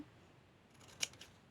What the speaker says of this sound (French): Nous allons couper les petits coins ici.